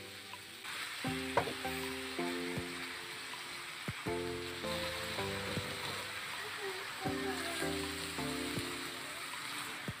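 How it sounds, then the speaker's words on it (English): Ground beef sautés in a pan with a steady, close sizzling hiss and intermittent scrapes and taps of stirring, set against background music. "And then now I put this ground beef to saute and mix it."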